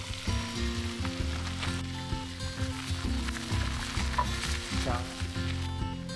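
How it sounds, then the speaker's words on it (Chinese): Snow peas stir-fried in rendered bacon fat crackle and sizzle steadily, with repeated scraping and tossing of the spatula against the pan and a low hum underneath. "当锅中煸炒出培根的油脂之后，放入荷兰豆"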